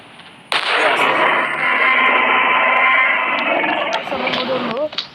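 Gunfire in a dinosaur-hunting video game, a sudden loud blast followed by a dense, sustained crackling roar that holds for several seconds, with a voice talking over it.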